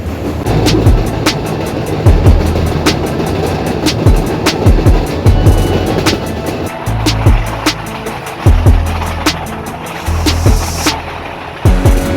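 A meter gauge train runs at about 50 km/h through a forest, loud and close, with a steady low rumble and regular rhythmic clickety-clack of wheels over rail joints throughout.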